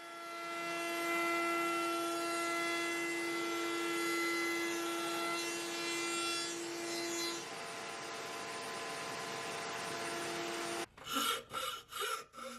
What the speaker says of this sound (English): I'm using a half-round file to open up the hole slightly to fit the tweeter.